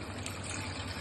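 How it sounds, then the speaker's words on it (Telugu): Water poured into a pot of pakodi curry (fritters in a curry base) during home cooking, a steady broadband rushing pour lasting about a second, close and even in level with no pauses. "ఇప్పుడు ఇందులో వాటర్ యాడ్ చేసేసుకోవాలి మనం."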